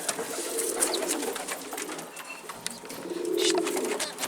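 Pigeons coo in a loft, a steady close murmur of soft cooing with light rustling and a louder swell of calls near the end, with no talking.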